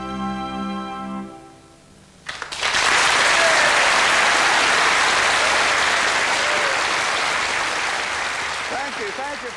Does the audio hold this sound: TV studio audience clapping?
yes